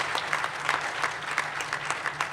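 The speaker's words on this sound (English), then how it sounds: "So let's give a round of applause to that." A crowd claps in a round of applause at a Brooklyn hospital funding event, steady dense clapping that holds throughout without voices on top.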